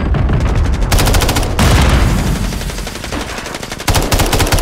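Rapid bursts of automatic gunfire in the video game Warzone rattle loudly and continuously, with short pauses between volleys and booming low thuds underneath.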